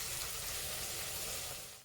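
Onions sautéing in a pan for a red chicken kurma, a steady, loud broadband sizzle and crackle that holds evenly, then tapers off at the very end, with no voices.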